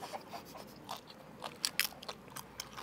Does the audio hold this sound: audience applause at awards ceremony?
no